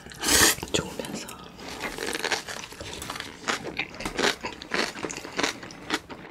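Close, wet crunching bites of a kimchi cabbage wrap filled with fire noodles, the chewing coming in uneven bursts with occasional lip smacks and mouth sounds.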